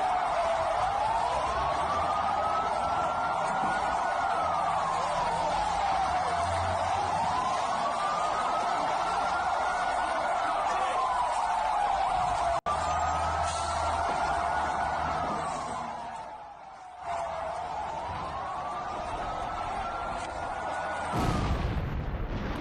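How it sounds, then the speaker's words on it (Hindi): Air raid sirens in Gaza wail continuously, their tone rising and falling in slow, repeated sweeps over a steady rumbling background. "लगातार सायरन बज रहे हैं"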